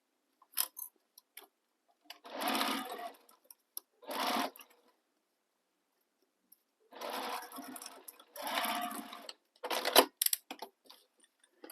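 A sewing machine stitches a sling bag seam in several short, quiet bursts of whirring, separated by pauses, with faint clicks and handling noises between runs and no talking.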